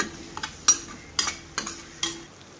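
A spoon scrapes and stirs spices, tomato and oil in a pan while making palak bhaji, with about five distinct sharp scraping strokes at a steady rhythm over a quiet sizzle.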